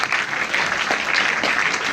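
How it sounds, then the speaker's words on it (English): A crowd claps steadily and fairly loudly through a short stretch, an even rush of many hands with no breaks. "A round of applause for Mr. Welsh"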